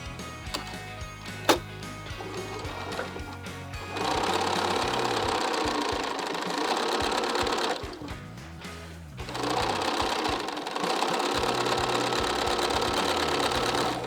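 Sewing machine stitches half square triangle quilt blocks, a loud steady mechanical whir in long continuous bursts with brief pauses between runs, close and alone.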